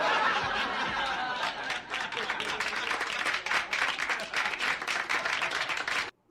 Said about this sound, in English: you got a round of applause there